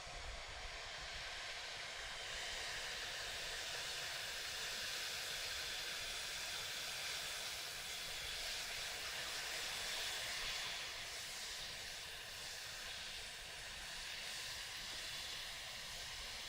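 An electric air taxi makes a test flight at an airport. Its propulsion gives a faint, continuous whirring hiss that swells slightly and then eases over about sixteen seconds, with no one talking.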